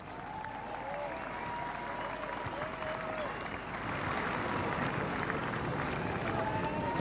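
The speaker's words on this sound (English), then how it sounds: "A round of applause is required for both the Casey Demons and the Southport Sharks." Crowd applause at Ikon Park after the 2022 VFL Grand Final between the Casey Demons and Southport Sharks, sustained dense clapping filling the stadium, swelling slightly louder partway through.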